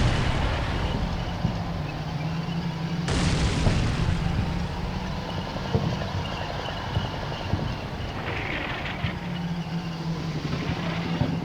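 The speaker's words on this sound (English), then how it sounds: "That's quite a barrage they've got going there." Artillery barrage shelling in the video game Combat Mission Black Sea, a steady rumble of distant booms and thuds layered over continuous battlefield noise.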